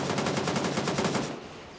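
Rapid automatic gunfire in Gray Zone Warfare, a fast even burst of shots that is loud and close for just over a second, then cuts off into quieter background noise.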